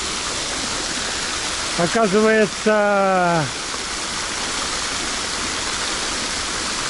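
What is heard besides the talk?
fountain water splashing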